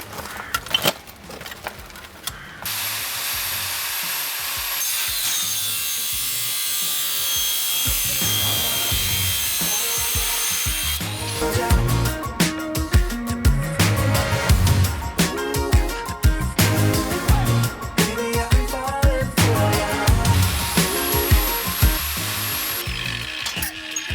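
Harsh, sustained grinding with a metallic whine as an angle grinder with a Sigma disc cuts square metal tube, continuous for most of the stretch and growing louder and rougher partway through, close by.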